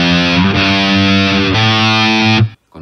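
A heavily distorted electric guitar plays a riff in loud, sustained power chords that change a few times, then drops off abruptly into a short silence.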